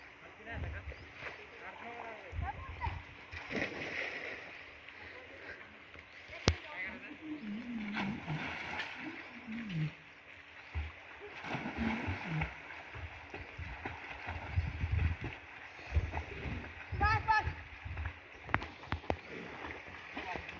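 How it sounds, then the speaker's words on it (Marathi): Water splashing and sloshing from people swimming in a village river, with shouts and chatter of several voices over a steady flowing background. "ही जी आहे हे एक नदीचा पार्ट आहे जिथे आम्ही पोहायला येतो."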